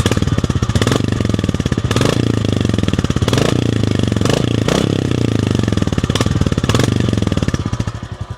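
A Royal Enfield Classic 350 single-cylinder motorcycle thumps loudly and close at idle, its pulsing beat swelling repeatedly with blips of the throttle.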